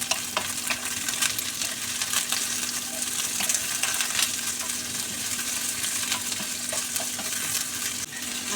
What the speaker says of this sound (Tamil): பீன்ஸை போட்டு ஒன்று நல்லா இலக்கி கொடுப்போம்.